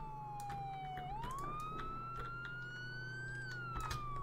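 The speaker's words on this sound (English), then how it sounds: "turn off your sirens." A Roblox police car siren wails steadily, its pitch sliding down and then rising, heard faintly at a distance with no talking.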